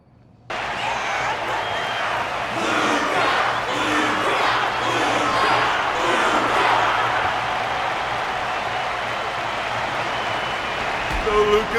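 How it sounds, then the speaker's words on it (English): A large arena crowd in the video game Honkai Star Rail cheers and applauds a fighter after a bout, a dense, continuous roar of clapping and shouting that starts abruptly and holds steady. "The audience's passion stays strong. Their constant applause is a salute to this resilient Belabogian fighter."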